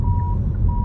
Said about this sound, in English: That noise is normal, it's just telling me somebody's in my blind spot.